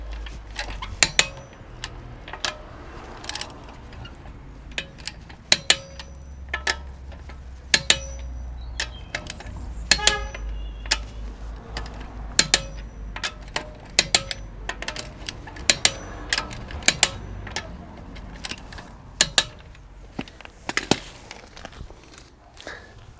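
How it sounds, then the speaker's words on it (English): A torque wrench tightens wheel bolts on a car's new wheels, giving sharp, irregular clicks and metallic knocks spread over about twenty seconds, close and fairly loud against a quiet background. "So the torque wrench will click when it gets to the right torque."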